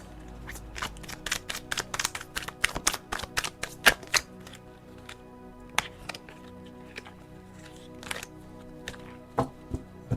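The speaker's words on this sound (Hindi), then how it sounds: "चलिए एक फाइनल गाइडेंस कार्ड निकालते हैं" Tarot cards shuffled by hand to draw a guidance card, giving a brisk burst of close riffling snaps that thin into scattered single flicks and taps.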